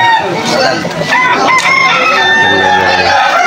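A young stag gamecock crows loudly and close at a busy Sunday market in Malolos, Bulacan, with other chickens clucking and people talking in the background.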